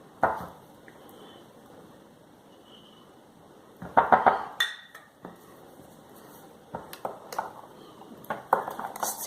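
A spoon stirs hyaluronic acid into a homemade organic lotion scrub in a container, giving scattered clinks and soft scrapes. Sharp bursts land around the middle and near the end, with quiet pauses between them.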